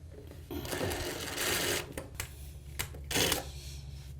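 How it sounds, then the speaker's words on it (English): Screws are driven with a power driver while waterproofing a shower: two close, buzzing whirs, one longer and one brief, over a low background hum. "We're gonna finish putting in our screws here."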